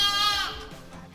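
Sheep bleating, a single wavering bleat that starts loud and close, then fades and thins over a bit more than a second, with no talk over it.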